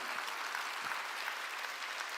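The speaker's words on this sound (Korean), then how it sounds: "깨달은 사람만 박수를 할게." Steady applause from a church congregation during a Korean sermon fills the whole span, a dense even wash of clapping with no break.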